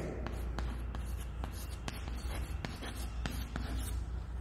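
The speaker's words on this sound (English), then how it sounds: "We write" Pen or pencil writing by hand on paper during a math lesson, faint scratchy strokes with small taps against a steady background hiss.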